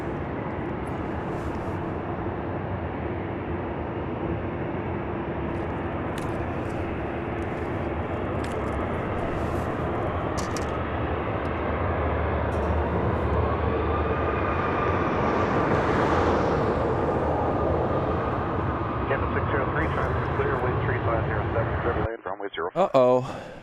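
An Air Canada airliner rolls for takeoff from runway 06 left at Toronto Pearson; a broad jet roar swells steadily toward the end, heard under radio chatter and talking.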